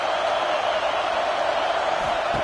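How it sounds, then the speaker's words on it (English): Stadium crowd in a Texas vs Ohio State college football video game, a steady dense roar of cheering that holds evenly throughout without breaks. "Listen to the crowd energy here in the early going."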